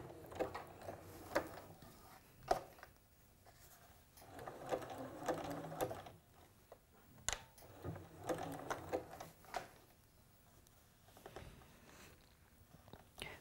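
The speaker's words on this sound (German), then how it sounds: "Und nähe den zweiten Gummi parallel zum ersten Gummi an." A household sewing machine sews elastic onto fabric for smocking, running in quiet bursts of rapid mechanical stitching separated by short pauses.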